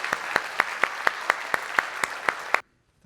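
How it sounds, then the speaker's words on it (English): Audience applause at the close of a talk at a learning and leadership conference: steady, close clapping with a few sharp louder claps standing out, ending abruptly into silence. "that's a round of applause"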